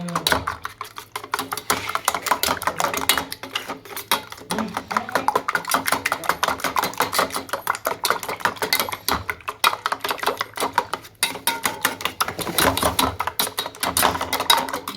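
A spoon beats bun omelette batter in a bowl, a rapid continuous clatter of tapping and scraping that runs the whole time with brief pauses, close and fairly loud.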